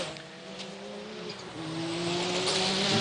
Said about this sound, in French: un superbe 360 pour une Ferrari F40